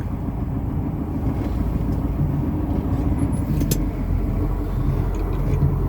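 A KamAZ dump truck engine rumbles close and steady as it drives the power take-off to raise the tipper body, a continuous low mechanical drone with no talk.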